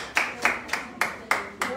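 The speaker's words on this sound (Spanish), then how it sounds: "¿Cuánto le dan palmas de aplausos al que vive para siempre?" A church congregation claps in unison, six sharp, evenly spaced beats in a steady rhythm, fairly loud and close, with no voices over them.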